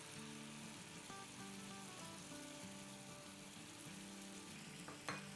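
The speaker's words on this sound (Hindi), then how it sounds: "देखिए हमारे स्पाइसेस को भूनते हुए 40-50 सेकंड हो गए हैं" Crushed chillies, cumin powder, garam masala and turmeric roasting in a pan give a faint, even crackling sizzle for several seconds, with a low steady hum beneath and one brief clink near the end.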